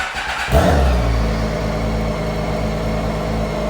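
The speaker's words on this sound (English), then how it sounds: "start the bike, run it up to operating temperature at idle" A BMW K1600 motorcycle's inline-six engine starts with a burst partway in, then settles into a steady, close, even idle with no talking.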